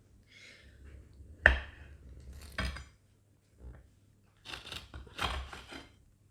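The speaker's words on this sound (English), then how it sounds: "let's get ready for a nice slice of panettone" A knife cutting through a slice of still partly frozen panettone, giving several short crisp scraping and crunching strokes with quiet gaps between them, close up.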